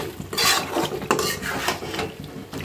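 Beef and chickpea dal are stirred and mixed together in a pot, producing repeated close scraping and clattering strokes of a spoon against the metal, in uneven bursts without talk.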